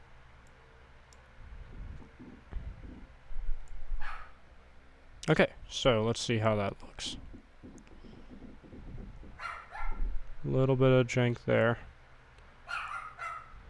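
Daisy the dog barks a few sharp times and yips nearby while someone talks at length over and between the barks.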